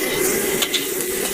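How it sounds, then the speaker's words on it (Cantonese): Roast duck, garlic and sliced peppers are stir-fried in oil in a wok, giving a steady loud sizzle with a few light scraping and clinking touches of the utensil. "我哋開始炒個燒鴨，落少少油"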